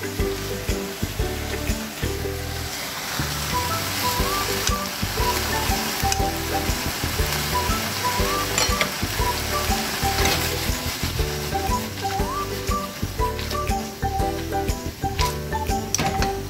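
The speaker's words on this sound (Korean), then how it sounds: "다 익을 때까지는, 거의 다 익을 때까지는 계속 볶아 주셔야 됩니다" Bulgogi beef stir-frying in a pan gives a steady sizzle and frying crackle with scraping stir sounds, close and continuous and alone.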